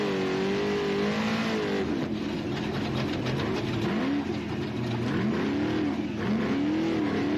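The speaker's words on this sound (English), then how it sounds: "Gear seems to be grabbing second gear," A desert race car in the Big Desert 480 revs hard and shifts gears, the engine note climbing and dropping repeatedly through a sustained loud drone, with no talking.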